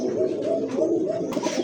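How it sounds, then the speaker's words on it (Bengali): A pair of deshi pure Rasgolla pigeons, red in colour, coo in a continuous low, throaty warble, close and steady, with no talking. "এই মুহূর্তে দেখতে পাচ্ছেন আরও এক জোড়া দেশি পিওর রাসগোল্লা কবুতর"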